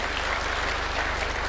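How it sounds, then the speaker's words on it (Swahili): Crowd applause at a political rally in Kenya, dense continuous clapping from a large gathering, loud and steady with no talk over it. "Tuwapigie makofi jameni"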